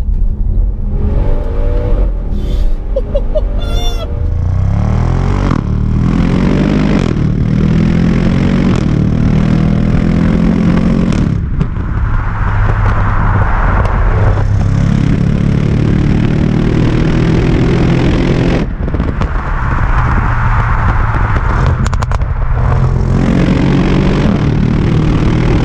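An Audi RS6 Performance in dynamic drive mode accelerates hard, loud and close from inside, its engine note climbing through several gears with sharp breaks at each shift and a sustained roar.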